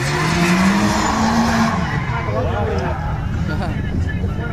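Drift cars, a Nissan S15 and a 180, skidding through hairpins on a track, with loud sustained tire squeal and engine drone rising in pitch, heard over a commentator's voice.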